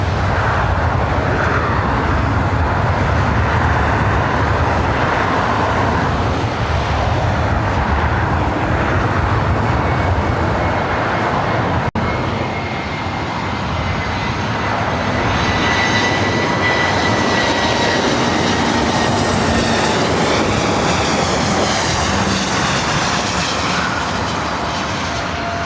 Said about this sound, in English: Up next is the Delta A319 coming in from San Antonio